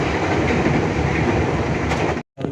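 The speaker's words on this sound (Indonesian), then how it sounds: "KA Singasari kembali diberangkatkan dari stasiun Cikampek, Kabupaten Kerawang jam 22:30" The KA Singasari passenger train pulls out of Cikampek station in Karawang at night, a loud steady rumble of wheels and carriages that cuts off abruptly near the end.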